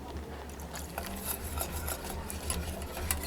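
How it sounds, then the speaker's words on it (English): Thick white sauce is stirred after milk is added, giving soft, irregular scraping and sloshing with faint clinks of a utensil against the pan, quiet and close with no talking. "What I'm going to do is add some more milk."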